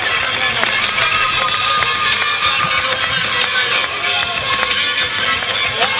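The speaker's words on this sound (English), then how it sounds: "Listen to the ovation from the crowd here in Sanford tonight." Crowd at a live wrestling event giving an ovation, loud continuous roar of cheering with scattered claps and stomps, dense and sustained throughout.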